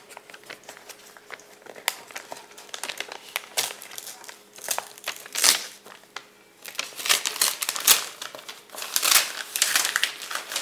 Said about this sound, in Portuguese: que legal esse estilete, abrindo o papel